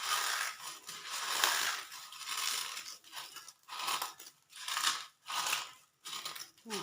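An ingredient is crushed into powder in a home kitchen, giving repeated rough grinding crunches in a steady rhythm of strokes, close and fairly loud, with no talk over it.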